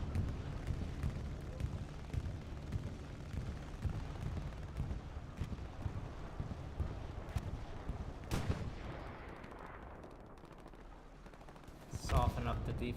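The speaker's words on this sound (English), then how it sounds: "Looks like an R22R bombing run." Aerial bombing run during a competitive console match of the WWII shooter Hell Let Loose, with dense rumbling explosions and gunfire layered throughout and a sharp loud blast burst near the end.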